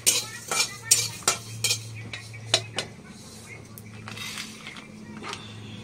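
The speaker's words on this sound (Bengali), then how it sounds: "কড়াইটা বসিয়ে দিলাম আবার" A metal kadai is set on a kitchen stove with a run of sharp clanks and clatters of metal on metal, then a quieter stretch with a few softer knocks as a voice talks nearby.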